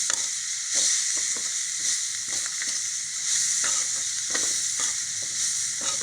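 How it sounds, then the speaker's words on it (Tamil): Coriander and curry leaves fry in hot oil in a pan while a spiced kara chutney is being made. A loud, continuous sizzle fills the sound, broken by repeated scraping stirs of the spoon. "நல்லா போட்டு வதக்கணுங்க."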